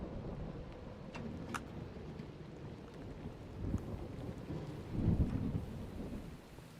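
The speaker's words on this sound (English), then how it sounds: "The ambient sounds when there's a storm are crazy." Thunderstorm ambience in Minecraft: a low, rumbling wash of rain and wind with rolling thunder swelling twice toward the end, fairly quiet and continuous.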